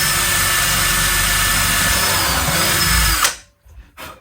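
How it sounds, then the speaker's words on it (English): A power drill whines steadily and loudly for about three seconds while drilling a hole through the end of a piece of wood, then cuts off abruptly, leaving near silence with a couple of faint knocks. "I'm going to drill a hole right the way through the end of this."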